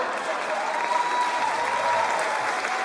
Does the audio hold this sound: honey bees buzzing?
no